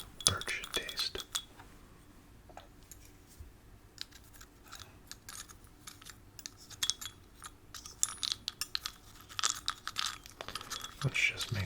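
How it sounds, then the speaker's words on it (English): Wooden pieces stirred in a bowl of soup for an ASMR roleplay, making scattered close clinks, taps and scrapes against the dish, with soft whispering between the sounds. "Let's just make sure that they are nice and stirred to activate that flavor."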